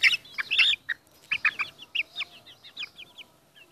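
A hen clucks at her nest, close and clear, in a run of quick, choppy clucks and short chirping notes, busy at first and then a little sparser.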